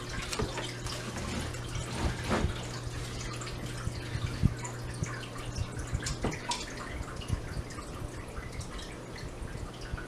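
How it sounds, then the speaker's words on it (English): Tap water runs steadily into an aquarium tank in a living room, a faint continuous trickle and splash with scattered drips. No talking. "I continue filling the tank to my desired level"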